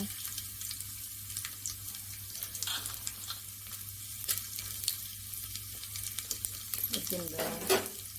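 Cumin, urad dal, chana dal and garlic crackle and sizzle in hot oil in a pressure cooker while tempering for cabbage palya, with steady frying, occasional stirring scrapes and bright pops.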